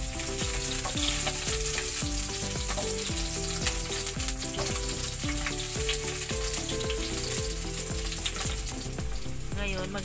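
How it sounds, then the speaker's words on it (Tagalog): Onion sautéing in a pan for Filipino ginisang monggo gives off a loud, continuous sizzle, laid under rhythmic background music with a steady beat for the whole stretch. "Ngayon, isusunod ko na igisa itong sibuyas."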